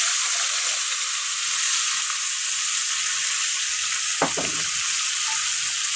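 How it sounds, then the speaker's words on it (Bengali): Chopped onions frying in hot oil, with a steady bright sizzle throughout and a brief louder clatter of stirring near the end, close and unaccompanied by talk. "এখন আমি তেলের মধ্যে দিয়ে দিলাম ওই যে কুচিয়ে রেখেছিলাম যে পেঁয়াজগুলোকে আমি দিয়ে দিলাম।"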